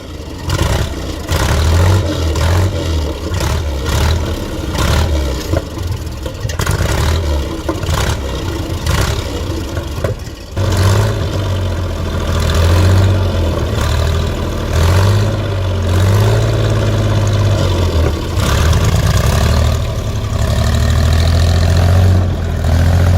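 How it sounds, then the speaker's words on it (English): Heavy 700-hp diesel engine of a 70-ton World War II King Tiger II tank, hand-crank inertia started, runs loud and close with a deep, throbbing low rumble that surges and settles into a steady idle for the whole stretch. "This 700-horsepower diesel, built for World War II's heaviest tank, uses a hand-crank inertia starter."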